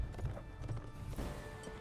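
Horse hooves clop in quick, uneven beats in the video game Mount & Blade Warband, faint and muffled under a low background rumble with a couple of sharper knocks.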